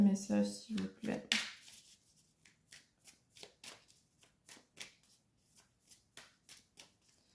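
A deck of oracle cards is cut and shuffled, giving a burst of riffling followed by a steady series of soft, evenly spaced card flicks and slaps, close and quiet, with speech at the start.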